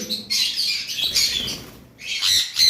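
Pet birds kept as a pair squawk in harsh bursts close by, with wing-flapping and short gaps between calls.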